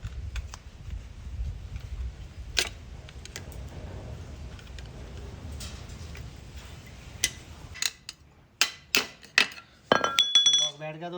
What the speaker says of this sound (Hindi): इसका लॉक लगाना है with the help of screw driver